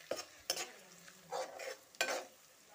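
Chopped ginger and garlic frying in a pan for biryani, with faint sizzling under several scraping stirs of a spoon against the pan, quiet and close.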